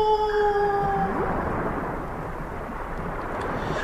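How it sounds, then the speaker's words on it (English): Long drawn-out tonal blue whale calls, steady and sliding, over a broad rumbling underwater wash. "from another mammalian sea dweller, the blue whale."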